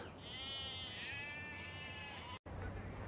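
A sheep bleats in one long wavering cry close by for over two seconds, cut off briefly before a faint return.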